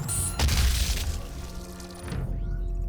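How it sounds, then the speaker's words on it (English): A heavy Gauss cannon blast booms in DOOM (2016), a loud deep impact with a crashing burst as demons are blown apart, fading into a low rumble. "So much fun to actually blow them to smithereens with the Gauss cannon."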